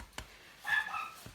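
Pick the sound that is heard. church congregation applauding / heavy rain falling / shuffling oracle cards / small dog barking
small dog barking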